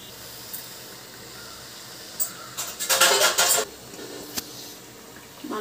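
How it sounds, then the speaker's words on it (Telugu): Burelu, sweet fritters frying in oil in a pan, stirred slowly so they don't stick; a soft hiss runs beneath a burst of louder spattering and scraping in the middle, with a few sharp clinks. "మనం ఏది అంటుకోకుండా ఇలాగా నెమ్మదిగా కలపాల"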